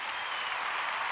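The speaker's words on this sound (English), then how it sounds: "Can we get a round of applause for Mhm. Jen?" Studio audience applause from a TV politics show, a short burst of dense, steady clapping heard alone and close.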